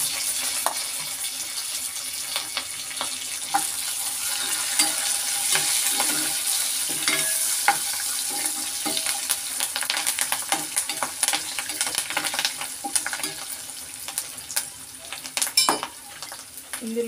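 Curry leaves sizzle in hot oil for egg rice, a bright continuous crackle with scattered spoon scrapes and pan clinks from stirring, close up and without talk.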